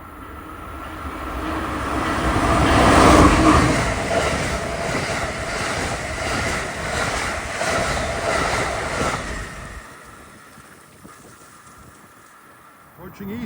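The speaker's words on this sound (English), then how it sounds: "approaching 1222 is Amtrak 87 en route from Boston to Norfolk, Virginia. I'll be passing by to my left on track 2" An Amtrak passenger train passes on track 2, a loud rolling rumble with rhythmic wheel clatter over rail joints that builds, holds as the cars go by, then fades away.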